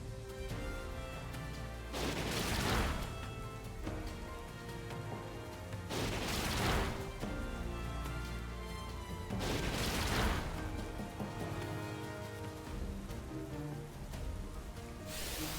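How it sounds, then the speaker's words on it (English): Rain Dance move in Pokémon Scarlet bringing a rush of rain over steady game music, with loud swelling bursts of downpour noise recurring every few seconds. "Okay, there's the Rain Dance."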